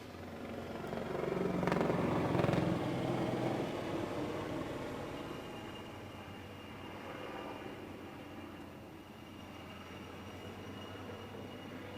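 An ALH helicopter at a naval air display banks hard and turns back toward the center, its rotor and engine noise loudest early on and then easing into a steadier, distant drone in the open air.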